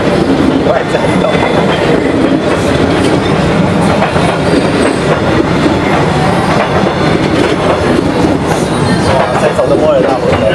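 A train rolls past extremely close along Hanoi's narrow train street at night, a loud continuous rumble of wheels clattering over the rails with a heavy roaring body. Voices can be heard faintly under the noise.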